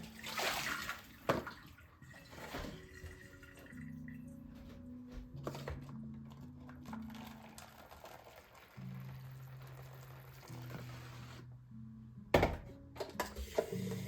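Hot water is poured into a pot in a kitchen, giving gurgling, filling sounds with rising tones, along with clunks of the pot and a few sharp knocks, moderately close and fairly quiet.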